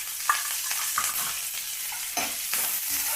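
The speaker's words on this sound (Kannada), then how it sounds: "ಈಗ ಕರಿಬೇವು ಹಾಕ್ಕೊತಾ ಇದ್ದೀನಿ." Curry leaves drop into sizzling oil with onions, mustard seeds and cumin for a ridge gourd curry, giving a loud close sizzle with bursts of crackling and scraping stirs.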